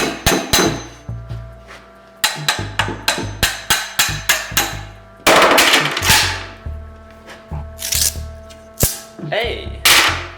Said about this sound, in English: So I'm gonna take a chisel and try to beat that out of there.